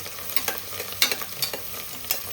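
Prawn pulao with mint and fenugreek leaves is stirred in a pan, with repeated scraping strokes of the spoon over a soft sizzle, close and clear.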